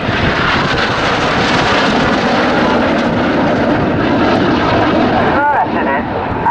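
Red Arrows jets fly a display at RAF Cosford, a constant loud roar of jet engines filling the sky while a commentator talks over it throughout.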